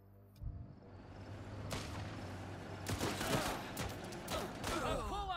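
Scattered rifle shots and bursts of gunfire crack out in the war game Last Train Home, irregular volleys that grow denser toward the end, with voices talking underneath.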